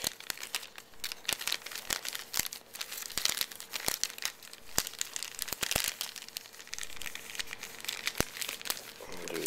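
Plastic wrapping on a DVD case crinkles and crackles close up in a dense, continuous rustle with sharp snaps throughout, and no talking.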